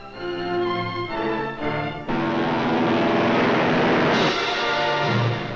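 Massed World War II Navy and Marine propeller warplanes take off for a 1945 raid on the Tokyo area, a loud continuous engine roar that swells sharply after a brief dip, with overlapping drones and no voices.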